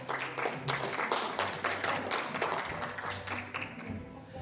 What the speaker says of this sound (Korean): 박수로 무대 위로 모시겠습니다